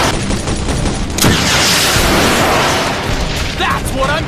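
A rocket-propelled grenade fired at a tank in the Modern Combat Sandstorm video game erupts in a loud blast, followed by a sustained rumbling roar of combat noise and brief chirping effects near the end.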